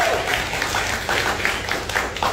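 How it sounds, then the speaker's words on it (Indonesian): Audience applause for a speaker at a campus talk; scattered, uneven claps from a modest crowd, with individual hand strikes standing out over a soft murmur, moderately close. "Tepuk tangan untuk Bang Wawan."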